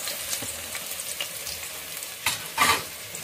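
Chopped onions fry in a pan for a homestyle chicken curry, a steady close sizzle punctuated by a series of light stirring scrapes and a louder burst of crackling toward the end.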